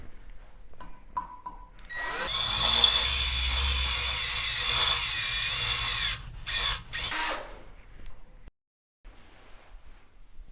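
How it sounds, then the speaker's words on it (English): Power drill with a masonry bit boring into concrete, a loud sustained grinding whir for about six seconds, then brief stop-start bursts before the drill falls silent. "Now that we've drilled our hole into our concrete"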